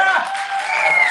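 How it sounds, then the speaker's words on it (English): A theme-park audience at a horror makeup show claps and cheers for a performer, a brief, bright burst of applause mixed with crowd voices. "Let's hear it for Alondra!"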